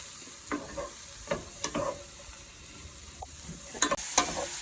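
Mushrooms and vegetables sautéing in a pan, a steady low sizzle broken by repeated scraping and clacking stirs of a utensil, close and moderately loud.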